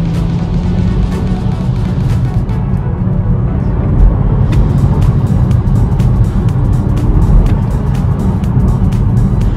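A steady car engine drone, electronically piped through the cabin speakers of a BMW M140i, fills the clip, a low continuous rumble with a constant tone and no voices.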